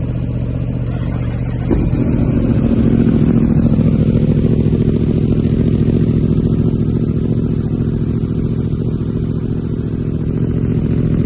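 A 2023 Yamaha R1 sport bike fires up from cold after a moment of low background rumble, then settles into a loud, close, steady idle with an even throbbing beat and no voices.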